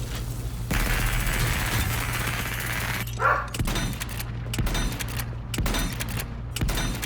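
Shotgun gunfire in the video game Arcadegeddon, heard as a dense run of loud blasts and impacts over a steady low game hum, with short bursts repeating through the second half.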